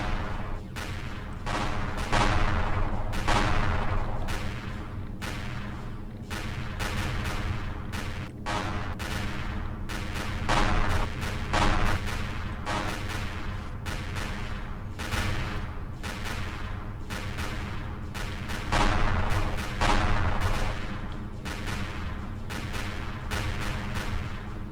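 Laser cannons firing during a ship fight in the video game Empyrion Galactic Survival, dense rapid bursts of sharp blasts over a constant low rumble for the whole stretch, loud and unbroken, no voice.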